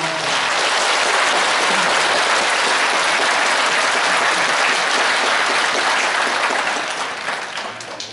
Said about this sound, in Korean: 좋은 강의를 해주신 김희곤 관장님께 다시 한번 큰 박수 부탁드립니다.